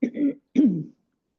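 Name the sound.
throat clearing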